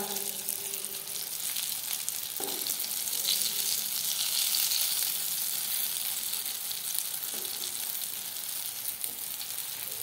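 Stuffed green lavangi chillies roast in a hot pan and are turned over, producing a steady close sizzle and crackle with a couple of soft clinks as they are flipped.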